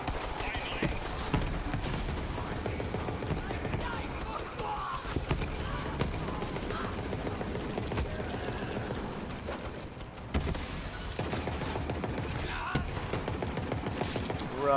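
Rapid bursts of gunfire ring out in the looter-shooter video game Borderlands 3, dense repeated shots and clattering combat effects running nearly continuously while players talk over the action.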